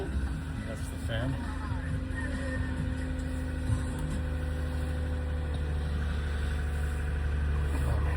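A Toyota Sienna V6 idles after a cold start at -9 F, a steady low engine hum with a constant whine running the whole time, fairly close and even, with faint talk over it.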